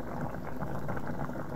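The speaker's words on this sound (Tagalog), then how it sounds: "kumukulo na yung ating white beans na may mais" White beans and corn boil in a cooking pot, giving a steady, dense bubbling and simmering that runs unbroken from start to end at a moderate level.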